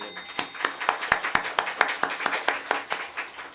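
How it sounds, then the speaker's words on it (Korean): A church congregation claps in steady unison, sharp rhythmic claps about four per second, close and moderately loud, with a faint murmur beneath. "박수로 올립니다."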